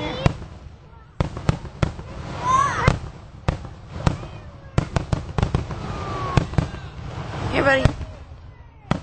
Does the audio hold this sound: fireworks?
yes